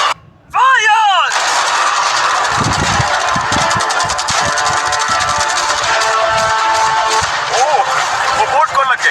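A loud, dense barrage of cannon blasts and machine-gun fire aimed at a yacht erupts after a brief whooshing sweep, with rapid cracks and booms rolling on continuously; a voice talks briefly amid the firing.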